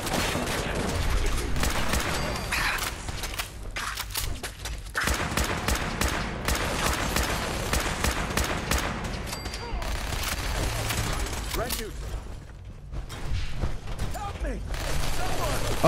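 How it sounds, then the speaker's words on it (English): Automated turrets firing in Fallout 4, rapid bursts of gunfire and booms layered densely over one another, loud and nearly continuous with short lulls. "These frickin' turrets, man."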